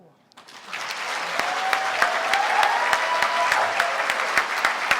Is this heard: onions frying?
no